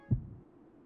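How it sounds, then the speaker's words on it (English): A heartbeat sound effect in the video game Fire Emblem Three Houses: a single low, muffled thump that fades quickly, quiet and alone. "Whoa. Heartbeat."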